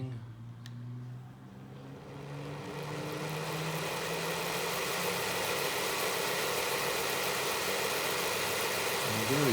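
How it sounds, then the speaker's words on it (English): A Piko BR 118 HO scale model locomotive's electric motor runs with a steady, low mechanical hum and whine that builds after the first two seconds and holds evenly to the end, close and continuous with no talking. "if you can already hear the motor running"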